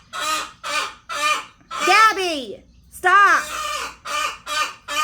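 A hen gives repeated loud alarm squawks in a fast series of bursts, with two longer rising-and-falling cries in the middle, while other birds join in agitated and a person shouts briefly over them.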